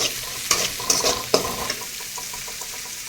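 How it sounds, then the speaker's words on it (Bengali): Chopped onion, ginger, garlic and green chilli fry in oil for bhindi do pyaza, giving a soft steady sizzle punctuated by a few sharp spatula knocks against the pan early on, then quieter stirring. "আমার পেঁয়াজ, আদা, রসুন, কাঁচা লঙ্কা কুচানো সব ভালো করে ভাজা হয়ে গেছে।"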